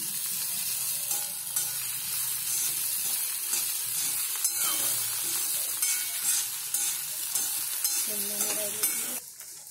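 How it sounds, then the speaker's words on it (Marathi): Soaked puffed rice poha being stirred and mixed in a wok, a steady sizzling hiss throughout with repeated scraping and clinking strokes of the utensil, easing off at the very end. "आता व्यवस्थित कढईने हलवून मिक्स करून घ्या एकत्र।"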